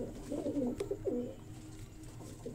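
A female breeder pigeon gives a couple of soft, rolling coos close by, followed by quieter shuffling.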